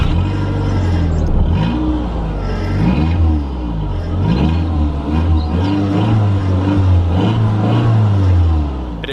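A turbocharged Mk4 Volkswagen GTI with a resonator-delete exhaust revs and pulls in repeated surges, a loud, close, rumbling engine note that rises and falls several times with no talking.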